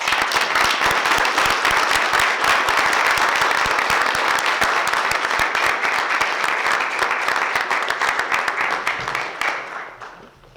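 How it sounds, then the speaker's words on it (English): Sustained, dense applause from an awards-ceremony audience for the history award winners, loud and steady throughout before tapering off near the end. "let's give one more round of applause to our winners tonight"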